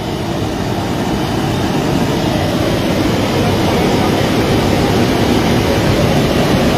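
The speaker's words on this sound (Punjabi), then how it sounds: "ਇਹਦੀ ਆਵਾਜ਼ ਤੁਹਾਨੂੰ ਐ ਲੱਗ ਜਿਵੇਂ ਬਹੁਤ ਵੱਡੀਆਂ ਟ੍ਰੇਨਾਂ ਚੱਲੀ ਜਾਂਦੀਆਂ" A loud, constant roar of gas rushing out under pressure, a dense unbroken rumble like a passing train, with no pauses.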